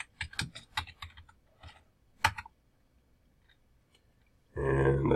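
A password is typed on a computer keyboard: close, crisp bursts of key clicks, then a quiet pause before a sudden loud noise at the end.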